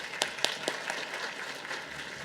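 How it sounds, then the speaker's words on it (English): A graduate thesis competition audience applauds its finalists; the clapping is fairly faint and distant, with a few sharper individual claps early on, then a thinner, even patter. "let's give a big round of applause to our 10 finalists."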